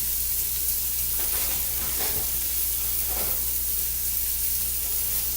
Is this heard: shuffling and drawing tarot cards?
no